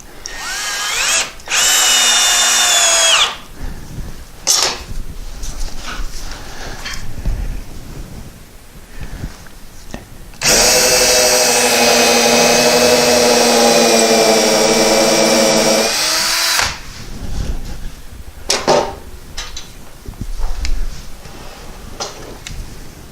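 Power drill driving 2-inch stainless screws through a countersink bit into wood while building a fireplace mantel, with two loud sustained whirring runs of a few seconds each separated by quieter handling noise.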